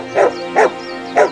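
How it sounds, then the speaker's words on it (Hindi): A cartoon dog barks three times in close succession, loud and near, each bark sharp and evenly spaced over a faint low hum, with no voices. "ये यहाँ पर आकर ऐसे भौंक क्यों रहा है?"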